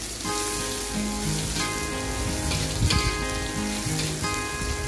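Shallots, garlic and ginger sautéing in a pan give a steady, close sizzle and crackle, with faint tonal hum from the kitchen running underneath the whole time.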